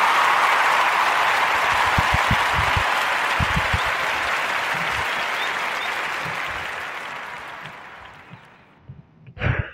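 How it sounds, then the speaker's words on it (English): A warm round of applause effect plays on a podcast, dense crowd clapping that holds steady and then fades out toward the end, followed by a few brief closing sounds. "give him a warm Narrator Podcast round of applause."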